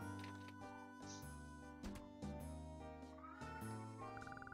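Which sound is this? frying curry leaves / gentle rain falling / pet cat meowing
pet cat meowing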